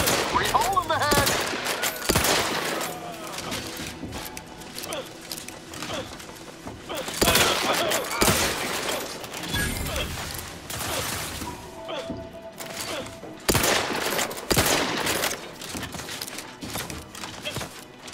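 Combat gunfire in The Outer Worlds 2 comes as scattered sharp shots and short bursts, some loud and close, mixed with mechanical clatter and in-game voices.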